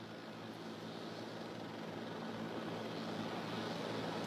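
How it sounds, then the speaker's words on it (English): JetBlue Flight 292 airliner coming in to land with its front nose gear jammed sideways, a steady broadband engine roar that stays loud and even throughout with no voices. "And here it comes in now, this JetBlue Flight 292 with that front nose gear pointed sideways."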